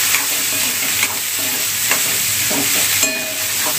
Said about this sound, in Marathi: छान असं आपण कांदा चांगला फ्राय करून घेऊया.